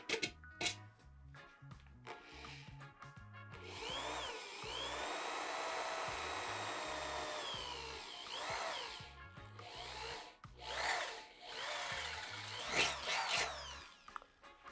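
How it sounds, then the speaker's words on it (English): A power drill whines through wood for several seconds, rising and falling, with clicks and handling noises before and after. "So we'll go ahead and drill we'll drill a couple more holes,"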